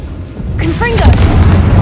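A Confringo blasting spell goes off in Hogwarts Legacy: near-quiet at first, then a swelling, loud booming blast that rumbles through the rest of the moment, with brief vocal-like tones layered in.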